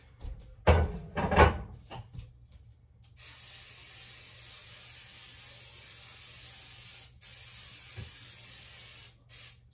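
A couple of clunks and rattles, then a continuous hissing aerosol of cooking spray onto a 13x9 baking pan for several seconds, with a brief pause and a small knock partway through.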